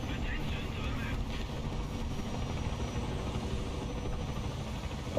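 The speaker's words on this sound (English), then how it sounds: "I hear a helicopter." Helicopter rotor and engine drone in a video game, a steady, loud, continuous low rumble that fills the whole stretch without letting up.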